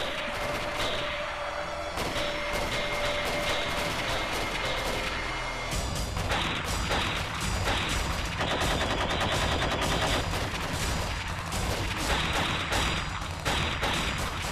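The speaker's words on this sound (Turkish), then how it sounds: "Ön menziller, silah sesi nereden geldi?" Dense, loud gunfire in a war drama: rapid machine gun bursts and single gunshots crackle continuously over a rumbling battle background with no pauses.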